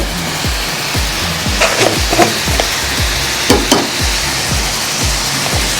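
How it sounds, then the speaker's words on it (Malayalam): Onions sauté with salt and turmeric in a pan beside eggs as a spoon scrapes in a quick, regular rhythm, about two strokes a second, over a loud, close, continuous sizzle. "ഇനി നന്നായിട്ടൊന്ന് വഴറ്റുക"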